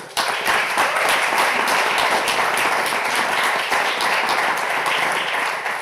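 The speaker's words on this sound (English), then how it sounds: "we can give you a round of applause" An audience applauds after a talk at a university marine biology session, steady dense clapping sustained throughout at a fairly loud, even level with no speech over it.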